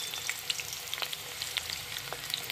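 Chopped onions fry in hot oil mixed with ghee, giving a lively close sizzle dotted with quick crackles and pops that keep coming throughout.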